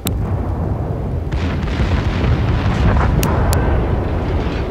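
Destroyer naval guns fire in a naval warfare video game, a loud, continuous rumbling of booms and blasts with a few sharp cracks layered on top, and no talk.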